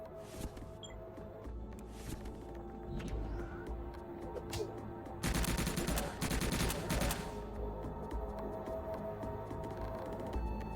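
Rapid bursts of submachine gun fire in the video game Subterrain, loud and dense over steady game ambience, with the heaviest volley in the middle.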